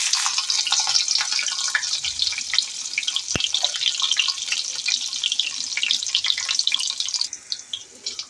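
Tempering seeds and a slit green chilli fry in hot oil in a pan, giving a bright, continuous crackling sizzle up close with scattered pops and one sharp clack partway through, with no talking.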